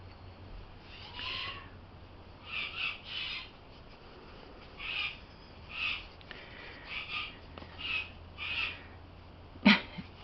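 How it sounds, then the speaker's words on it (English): A bird calling repeatedly outdoors, a string of short hooting or squawking notes in irregular bursts, moderately distant over a steady background hum, ending with one sharp nearer sound. "Bird is crazy."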